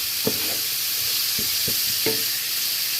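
Split green chillies frying in a pan for a fish curry, a steady broadband sizzle with a few short scraping stirs of a spatula, close and continuous for about three seconds with no voices.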